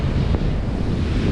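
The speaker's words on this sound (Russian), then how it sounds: "Волна-то все-таки хорошая и ветер сильный." Strong wind roars and sea waves wash continuously against the shore during winter flounder fishing, loud and close with steady gusting and no voices.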